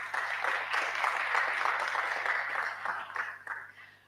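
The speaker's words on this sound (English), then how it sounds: "So please clap for yourselves" Participants at a pitch-fest innovation challenge applaud themselves, a steady, somewhat distant wash of crowd clapping lasting a few seconds before tapering off.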